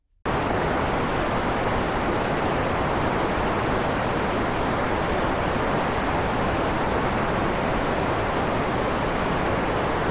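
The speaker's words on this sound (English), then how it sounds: "I'm just going to play some white noise for the next 10 seconds" Steady broadband white noise played during a Roblox trivia game, a continuous loud hiss that starts abruptly and holds unchanged throughout.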